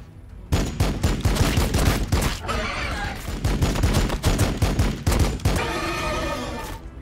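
Rapid bursts of gunfire erupt in the Warhammer 40k Battlesector video game, loud overlapping volleys with sharp cracks and rattling fire that continue nearly throughout.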